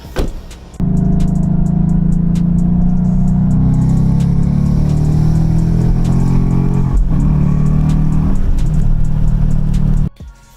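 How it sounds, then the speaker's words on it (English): A 2015 Ford Mustang GT engine with a Corsa Xtreme cat-back exhaust starts up and runs at a steady low rumble, close by, then shuts off abruptly near the end. "Time to get on the road."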